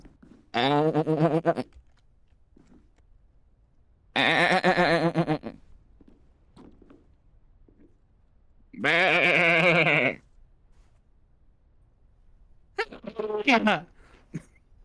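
A voice imitates a goat, giving four separate drawn-out, wavering bleats spaced a few seconds apart with quiet gaps between them, loud and close.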